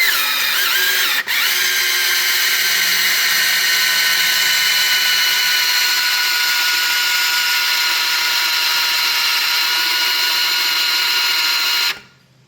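Ford 302 V8 engine with freshly replaced lifters cranking and catching, then running as a loud steady high-pitched whirring roar with strong harmonic whine, close up, before cutting off abruptly at the end.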